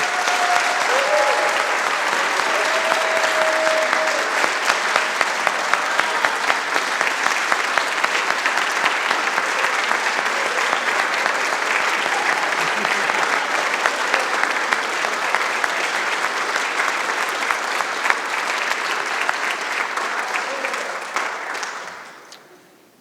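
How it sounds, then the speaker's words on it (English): Sustained audience applause at an alumni honors celebration, a dense, steady roar of clapping lasting about twenty seconds before tapering off quickly at the end, with no talk over it. "So I hope you'll join me in one last round of applause for Kathy, Jane, Chris, and Anna."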